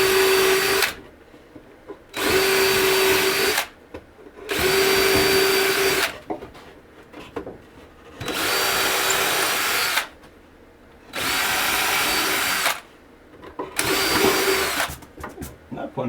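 A power drill driving screws into a vintage-style gold mining sluice during assembly, whining in six separate bursts of one to two seconds each, loud and close, with quiet handling noises between the bursts.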